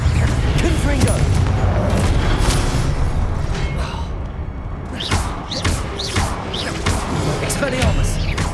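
The Confringo spell blasts in Hogwarts Legacy on PS5 with heavy booming impacts amid dense game noise, followed by a few sharper whooshing bursts while a voice speaks.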